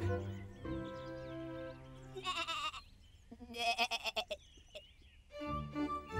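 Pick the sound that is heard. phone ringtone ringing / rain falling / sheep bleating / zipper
sheep bleating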